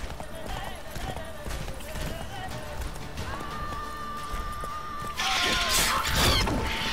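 A horse in The Witcher 3 video game clip-clops at a run beneath game music and effects, ending in a louder clattering crash.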